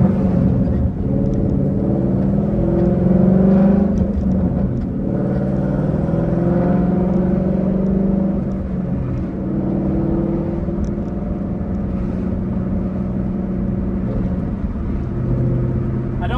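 A Ford Mustang's engine runs steadily while the car is driven around town, a loud, continuous low rumble from inside the cabin with slight swells of revving and no talking over it.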